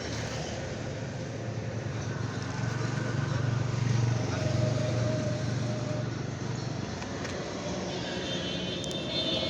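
A used motorcycle's engine idles steadily and fairly loud from start to finish, a continuous low rumble with a constant mechanical drone layered over it and no voices.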